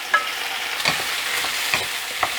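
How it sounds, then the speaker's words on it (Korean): Zucchini and onion stir-fry quickly over high heat in a hot pan, giving a bright, even sizzle close by, with a few sharp spatula taps and scrapes; no voices. "호박은 센 불에서 빠르게 볶아주셔야 돼요."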